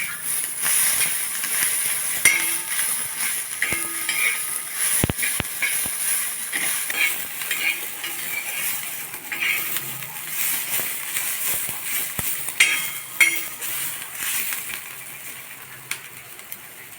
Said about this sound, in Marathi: आता मी चांगल्या मिरच्या भाजून घेत आहे आता त्यातच मी लसूण घालून घेते